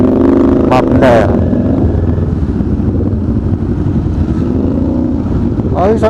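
A motorcycle fitted with an AR aftermarket muffler sounds a loud, steady engine drone with a three-cylinder-like character, close by in heavy traffic on Cavitex, mixed with wind buffeting.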